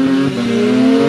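A Mazda R100 with a bridge-ported Series 5 13B rotary and a Garrett GT42R turbo revs hard, a loud, close, steady buzzing engine note held for about a second without talk.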